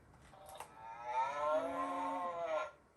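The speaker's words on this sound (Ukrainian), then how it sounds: "Корова." A single drawn-out, low moo from a cow, rising and holding steady for about two seconds before fading, heard clearly with no talking.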